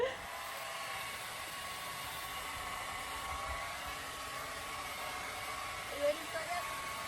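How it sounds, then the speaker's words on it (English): Hair dryer blowing steadily at an even level, a broad airy rush throughout, with brief voices and a small thump near the end. "It's a hair dryer."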